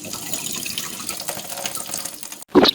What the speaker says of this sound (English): I couldn't get the water to come through the kettle fountain. It's working now.